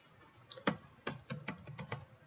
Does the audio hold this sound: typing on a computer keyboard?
yes